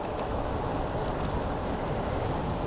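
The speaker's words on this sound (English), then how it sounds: "Oh yeah, it's windy too" Steady, dense wind noise buffets the microphone while riding an e-bike into the wind, a low continuous rumble with no voices.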